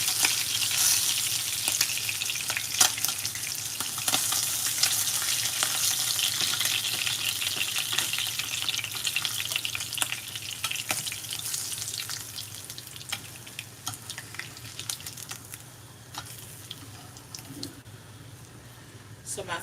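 Fish frying in a pan on a stovetop alongside sautéed papaya, a steady close crackling sizzle running throughout, slowly easing a little toward the end with occasional sharper pops.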